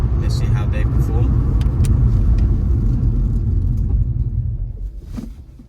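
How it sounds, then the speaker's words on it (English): Road noise and engine rumble from a 2015 SEAT Ibiza Cupra 1.4L TSI DSG slowing down from 60 during a brake test, a steady loud drone that fades toward the end as the car slows, heard from inside the cabin. "Now what I'll do is I'll test the brakes on this as well. So while we're at 60, let's see how they perform."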